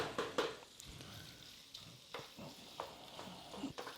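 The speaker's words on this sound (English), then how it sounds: "add the andouille sausage to it. And I'm just going to keep stirring this, letting this cook." Andouille sausage sizzles in a pan for shrimp and grits, with a soft steady frying hiss broken by repeated scraping and knocking as a utensil stirs it, fairly quiet and close.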